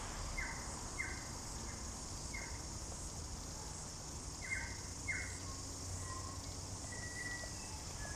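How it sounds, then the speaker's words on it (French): Faint bird chirps repeat in short bursts over a steady outdoor insect hiss in New Zealand, distant and soft against the continuous background drone. "Vous entendez ce oiseau?"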